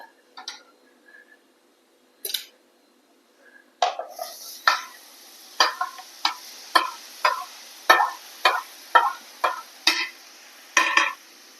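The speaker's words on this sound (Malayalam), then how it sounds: "ഇനി നമുക്ക് നാരങ്ങ ഇട്ട് കൊടുക്കുക" Lemon pieces go into a pan for a vadukapuli lemon pickle, stirred with a spoon that scrapes and clinks against the metal about once a second, a steady run of sharp taps and scrapes with no voices.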